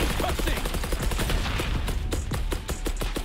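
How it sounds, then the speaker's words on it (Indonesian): Rapid automatic gunfire in the tactical shooter Valorant, a steady fast stream of sharp shots for the full few seconds, with someone talking quietly beneath. "Misalkan dia lagi nembak nih, tembak."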